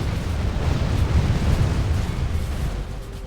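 Cannon fire against reinforced gates in a medieval strategy game: a dense, continuous low rumble of booms and bursts, loud and sustained, with no speech over it.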